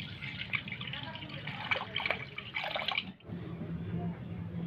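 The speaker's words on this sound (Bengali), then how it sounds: "এবার আমি দুধটা ছেঁকে নিচ্ছি।" Milk being strained for making Sitabhog, a steady dripping and trickling of liquid throughout, with a brief pause near the end, under a faint background hum.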